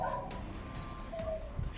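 Street dogs bark and yip in a residential lane after a woman falls from a two-storey roof, a few short sharp barks and a whimpering yelp at moderate distance over background noise.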